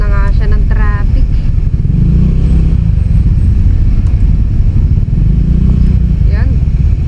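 A Honda Click scooter weaves through slow traffic on the road near Balete Baywalk in Tanauan City, Batangas. Its engine drones loudly and steadily with rumbling vehicle noise and wind buffeting, and a voice speaks briefly over it.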